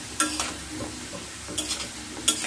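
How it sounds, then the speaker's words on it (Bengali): Potato bites frying in hot oil over medium-high heat, giving a steady close sizzle broken by several brief scraping bursts as they are stirred and turned, with no talking. "এইভাবে দুটো সাইড মিডিয়াম টু হাই স্টিমে ভেজে নেব।"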